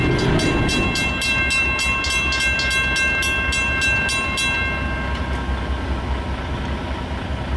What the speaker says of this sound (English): Nice horn, Chevy.